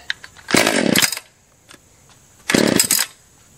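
A Stihl chainsaw fires briefly in two short bursts, each a loud, buzzing roar of about half a second to a second, separated by a pause with faint clicks and handling noise.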